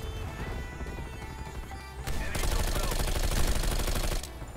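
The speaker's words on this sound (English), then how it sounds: "the LMGs are actually insane in this game" Light machine gun fire in Black Ops Cold War, a sustained dense burst of rapid automatic shots running for about two seconds after a quieter stretch of game sound, close and loud.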